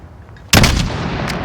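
A single loud rifle shot cracks out suddenly in Call of Duty Modern Warfare, a sharp close blast that is followed by a lingering rumbling echo as it decays.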